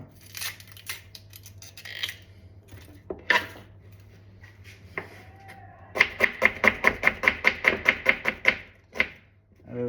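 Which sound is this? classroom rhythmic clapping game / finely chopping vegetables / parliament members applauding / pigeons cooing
finely chopping vegetables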